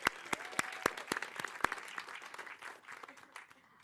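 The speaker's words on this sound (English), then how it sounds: "So round of applause for Veronica." Applause rises from the audience at a skateboarding summit on inclusivity and sustainability, a handful of sharp, separate claps ringing out at first, then thinning into a softer, scattered patter that fades by the end.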